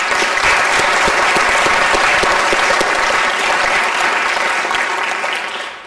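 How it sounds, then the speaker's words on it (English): A room of attendees at a Kitchener city council meeting claps in sustained, even applause for several seconds before it tapers off. "Let's give them both a round of applause."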